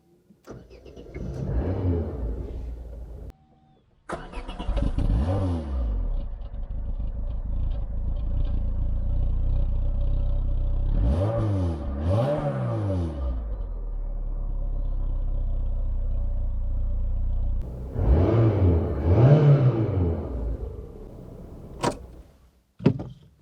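An old project car in a garage cranks and fires up several times, with engine bursts near at hand, steady idling stretches in between, and a final revving flare before it cuts off.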